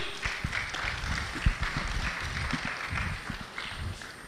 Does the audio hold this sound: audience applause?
yes